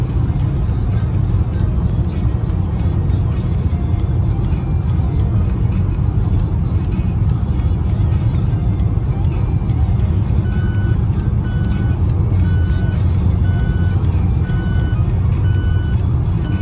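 Steady road traffic rumbles past a car driving at night on the road from Al Ruwais to Doha, a continuous close drone of engines and tyres with faint beeps and occasional low voices.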